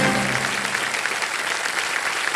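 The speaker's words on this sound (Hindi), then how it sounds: "ताली बजती रहे" Studio audience applauding on the TV quiz show Kaun Banega Crorepati, a dense, loud and steady burst of clapping from a crowd that carries on without a break.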